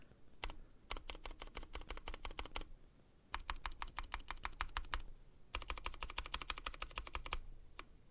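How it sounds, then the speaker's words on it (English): Someone types quickly on a custom mechanical keyboard with stabilized keys, the FRL prototype build. Close, clacky keystrokes come in three fast bursts separated by short pauses. "listen, no ticking on the space bar"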